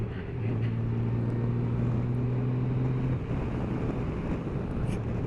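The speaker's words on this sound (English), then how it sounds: "Getting a little bit of wind noise, not a lot." Honda Gold Wing motorcycle cruising at speed, a steady engine drone holding a low tone beneath a broad rush of wind buffeting, loud and continuous with no talking.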